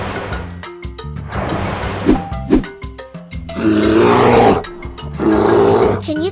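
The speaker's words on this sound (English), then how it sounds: "This voice is bear." A bear roars in several deep, growling bursts, with shorter grunts early on and longer, rumbling roars later, loud and close with nothing else heard.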